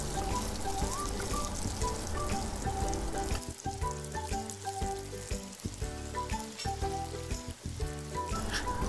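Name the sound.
liver, lungs and heart frying in a pan for spicy bopis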